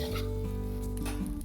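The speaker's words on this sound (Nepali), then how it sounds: "अब यसलाई मजाले चलाएर 4-5 मिनट जति चलाउँदै फ्राई गर्छौँ" Chicken fried rice crackles and sizzles in a pan during Nepali-Chinese style stir-frying, with a loud, close, continuous fry and a steady low hum underneath, no voices.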